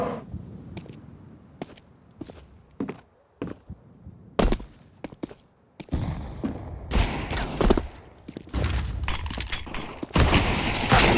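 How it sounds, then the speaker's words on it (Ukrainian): Bursts of gunfire in a competitive shooter video game match between two school teams, rapid volleys and single shots, loud and dense in the second half, with no voices over them. "Стріляється, помирає Місісіпі, Сокіш вбиває його."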